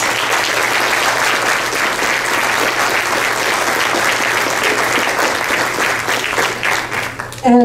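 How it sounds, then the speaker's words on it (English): Loud, sustained applause from the audience at a Des Moines city council candidate forum, many hands clapping steadily and close for several seconds before cutting off abruptly at the end. "Let's give a round of applause to our candidates."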